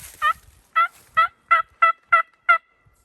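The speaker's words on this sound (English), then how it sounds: "Got a bird gobbling." A wild turkey tom gobbles outdoors before a thunderstorm in a quick series of seven evenly spaced, rattling calls, fairly clear and alone with no talking.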